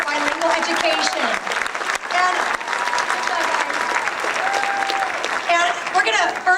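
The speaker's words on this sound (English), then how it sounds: "Final round of applause for bilingual education." A school academic awards audience claps in a steady, dense round of applause for the bilingual education honorees, with scattered voices and cheers mixed into the sustained clapping.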